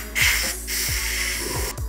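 An airbrush gun sprays black color onto a chocolate piece, giving a steady close airy hiss that runs through the whole short stretch with slight pulses, with no talking.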